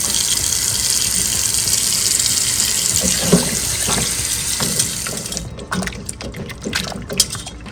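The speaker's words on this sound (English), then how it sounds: "I have some two pieces of saltfish, so I'm gonna wash those and put them in to cook." Tap water gushes steadily over saltfish as it is washed in a sink for a Jamaican breakfast. The flow is loud and close, then breaks into uneven splashes toward the end.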